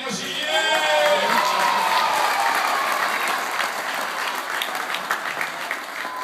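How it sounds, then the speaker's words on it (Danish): Audience at a children's magic show claps and cheers loudly, with shouts of yeah at the start, then steady dense applause that gradually thins out. "Må jeg lige høre, om I kan klappe af en og sige yeah!"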